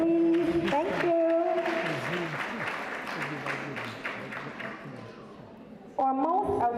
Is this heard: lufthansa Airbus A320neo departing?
no